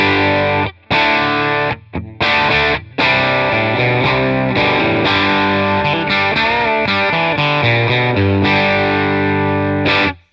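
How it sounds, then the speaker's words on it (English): Electric guitar through an amp model with a Lancaster Audio Nobels ODR-1 overdrive plugin engaged, gritty overdriven chords and riffs, loud and close, with a few short stops between phrases. "I'll place the Nobels Overdrive in front of it or on top of it in the plugin stack"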